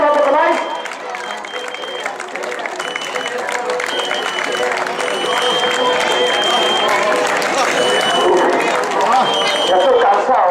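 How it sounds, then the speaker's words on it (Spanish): Crowd clapping and cheering at a popular footrace in Meaño, Galicia, building and holding for several seconds, with a loud voice talking over it and runners passing. "Ahora un aplauso más"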